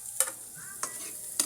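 Onions frying in a pan after garlic, under a soft steady sizzle with three distinct scraping strokes of a stirring utensil.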